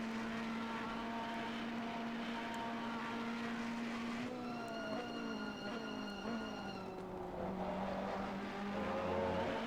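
Race car engines at a Bathurst charity race, a steady droning whine that shifts pitch as gears change partway through, continuous and moderately distant with no talk.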